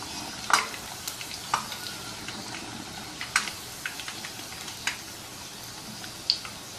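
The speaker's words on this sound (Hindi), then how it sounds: "थोड़ा सा इसको दबाते हुए ऊपर से फ्राई करेंगे।" Potato puri frying in hot oil while being pressed from above, a soft continuous sizzle with light, irregular ticks and taps of the utensil against the pan, close and fairly quiet, no voices.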